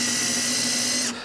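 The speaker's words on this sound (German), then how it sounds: "Ich bohre mal zwei gleichzeitig vor." Cordless drill pre-drilling two holes in wood while building Helmholtz resonators and bass absorbers for a studio: a steady, loud, close whirring motor drone that cuts off abruptly near the end.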